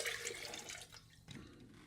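Rum poured into a Puerto Rican coquito mixture gives a short, faint splashing trickle of liquid, heard alone.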